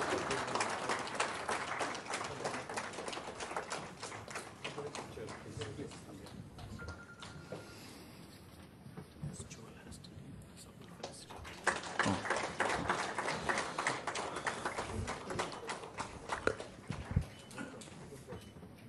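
An audience applauds for the Royal Infra team at an office inauguration event, a long spread of scattered clapping that thins briefly midway and then swells again. Voices talk over it in places.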